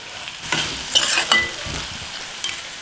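Spinach frying in oil in a pan for spinach rice, a steady close sizzle broken by a few louder bursts of stirring and scraping, with no voices.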